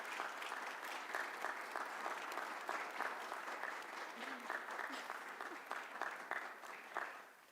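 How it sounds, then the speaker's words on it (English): An audience applauds after a panel discussion in a courageous conversations series, steady sustained clapping from a roomful of people heard at a moderate distance, holding evenly before tailing off at the end. "Let's have a round of applause."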